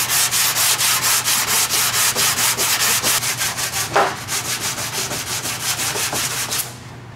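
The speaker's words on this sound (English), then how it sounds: "basically just keep sanding, be able to block it out" Steady back-and-forth sanding strokes on primer over a Toyota MR2 car body, loud and close with an even rhythm of about three strokes per second, stopping near the end.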